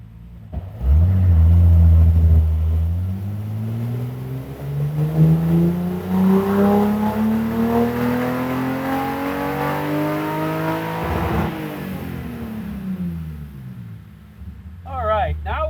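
A BMW E30 engine on a dyno during a ramp pull climbs steadily in pitch from a low idle rumble to a high rev, then drops back off; loud and close, with no talk.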